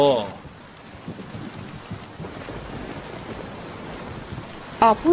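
A cartoon storm of rain and thunder: steady, moderate rainfall hisses throughout, with a low thunder rumble, and brief sharp sounds break in near the start and end.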